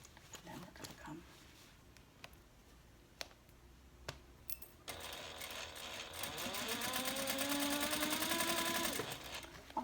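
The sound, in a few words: sewing machine sewing half inch seam on handbag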